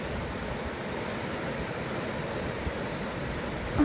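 A flooded river in the Adirondack Mountains rushes steadily past, a loud, close, unbroken roar of churning water with no voices.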